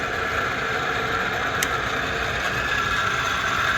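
A Hardinge HLV lathe runs steadily, giving a continuous mechanical whir with a faint clicking, gear-like texture and no talk over it.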